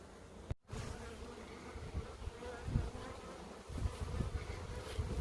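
Honey bees buzz around an opened beehive during a honey frame harvest, a faint, continuous swarming hum with scattered soft knocks and handling bumps close by, no voices.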